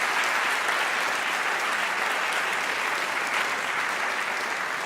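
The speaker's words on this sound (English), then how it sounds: "I just want to invite one more round of applause for Robert Rosencrantz" A debate audience gives sustained, dense applause, a steady loud wash of many hands clapping throughout with no talk.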